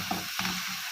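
Chicken, onions and spices stirred together in a hot pan, a spoon scraping a couple of times through a steady close sizzle.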